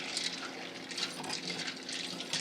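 A pot of white hot chocolate with vanilla and chips being whisked, producing a continuous close, soft sloshing and scraping liquid churn with no speech.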